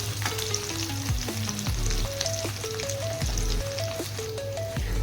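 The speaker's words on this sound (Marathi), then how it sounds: "थोडंसं तूप किंवा तेल तुम्ही दोन्ही वापरू शकता आपण परतून घेऊया" Boiled potato sautés in ghee or oil for sabudana khichdi, giving a steady, close sizzle and frying hiss throughout, with occasional stirring scrapes and a tonal melody playing underneath.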